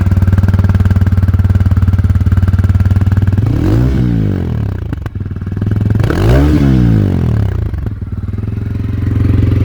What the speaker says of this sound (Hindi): तो भाई बाइक हो गई है चालू, और इसका एक बार साउंड देखो क्या ही जबरदस्त इसका साउंड निकल के आ रहा है।